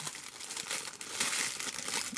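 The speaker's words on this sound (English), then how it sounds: "Got their own little wrapping paper." Wrapping paper inside a Power Rangers x Street Fighter Lightning Collection Chun-Li & Ryu action figure box crinkles up close, a steady, dense rustle without speech.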